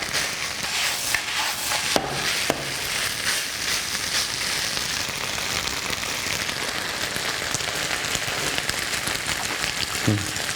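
Octopus and butter fried rice, made with garlic scapes, stir-frying in a pan with a steady, crackling sizzle that runs throughout, broken by a few sharp clinks of a utensil scraping and tossing the rice.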